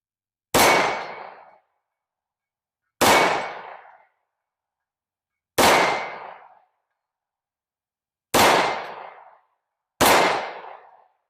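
Smith & Wesson M&P 2.0 pistol in .357 SIG firing at a metal target: five loud, sharp shots at irregular intervals, each with a brief ringing decay, with silence between and no talk.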